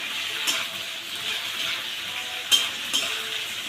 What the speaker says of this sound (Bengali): এটা দিয়ে সুন্দর করে একটু কষিয়ে নেব